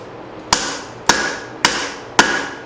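Cross peen hammer forging a small axe head on an anvil: four sharp ringing metallic strikes at an even, steady rhythm, each with a short bright ring, close and loud.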